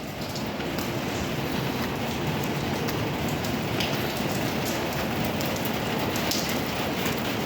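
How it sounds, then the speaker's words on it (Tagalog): Steady rain falls and patters on surfaces around a car in the early morning, a dense continuous hiss with scattered sharper drops, close and unbroken. "Umuulan"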